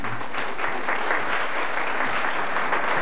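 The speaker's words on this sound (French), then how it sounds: "Et puis on applaudit bien fort Barry." Brisk, steady applause from an audience at a school's end-of-year show fills the hall without a break.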